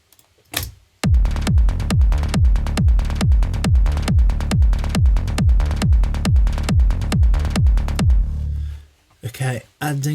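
Electronic synth track with a punchy kick drum and deep bass pulsing in a steady, even four-on-the-floor rhythm, playing alone for several seconds before cutting off.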